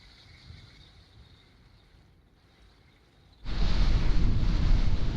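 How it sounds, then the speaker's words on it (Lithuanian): Storm wind gusting with rain during a hurricane on an island holiday, a low muffled rumble that suddenly surges into a loud, sustained roaring blast of wind and rain noise battering the microphone. "Ir klausom vėjo gūsių su lietum."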